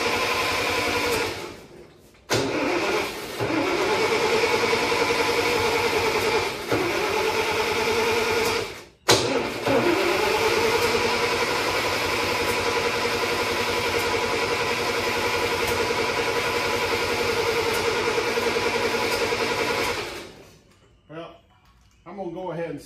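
The engine of an International 140 industrial tractor cranks over in long, steady, droning stretches with brief pauses. It is loud and close, and stops near the end.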